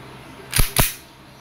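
Two sharp airsoft pistol shots from a Double Bell Glock 17, close and loud, spaced about a fifth of a second apart, with quiet room tone before and after.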